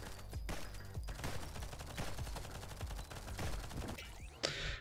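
Rapid flak sniper rifle fire in the video game Nimrod Guncraft Survivor, a dense burst of repeated gunshots crackling steadily throughout, loud and close, with a sharp blast near the end.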